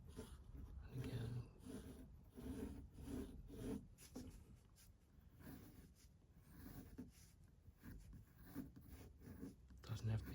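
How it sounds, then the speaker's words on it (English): Pencil scratching and rubbing on paper while an artist sketches a face in a light-and-shadow value study, a soft, uneven run of strokes heard close up under talk. "I'll do the face a little larger, do a better drawing."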